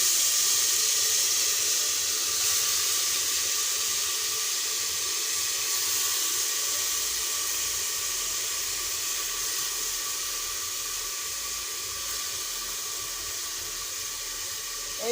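Dal being sautéed in a pan gives a steady, even sizzling hiss with a faint low bubbling underneath, continuous and close for the whole stretch, no talking.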